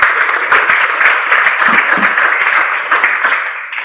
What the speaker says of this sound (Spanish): Les pido un aplauso al profesor para comenzar.